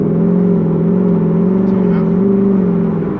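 A Mazda ute fitted with a 3UZ V8 and a five-speed A650 automatic holds a loud, close, steady high-rev drone at its rev cut, with a slight wavering in pitch throughout.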